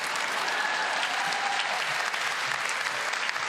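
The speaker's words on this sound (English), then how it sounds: "Big round of applause for Morgan or Luana." Sustained applause fills the room from a live audience, a thick, even roar of many people clapping that holds steady throughout without any voices on top.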